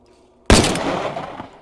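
A single loud, close revolver shot cracks out after brief quiet and rings off with a decaying tail, fired at a virtual shooting range in a VR game.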